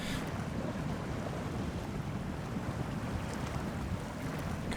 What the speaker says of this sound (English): Let's jump into the big puddle of water.